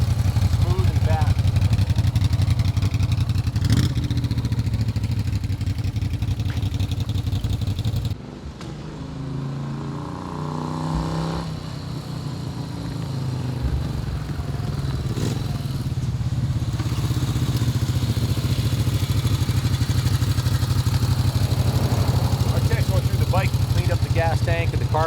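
A 1981 Moto Guzzi V-twin motorcycle running loud and close with a steady throbbing engine note, then the sound drops briefly before it builds again as the bike rides off down the road, with a voice talking over it.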